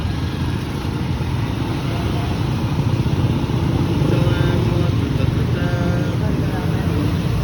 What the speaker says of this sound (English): Here comes the tuk-tuk race.